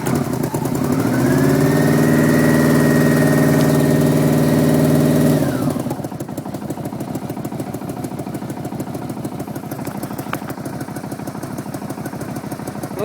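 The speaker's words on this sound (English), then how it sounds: "I let her sit there and idle at about half choke right now." A 1984 Yamaha Venture motorcycle engine starts with a rising whine, then settles into a steady, fast-ticking idle on half choke that carries on alone, close by.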